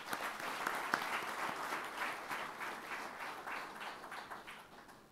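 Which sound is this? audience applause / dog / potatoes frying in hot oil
audience applause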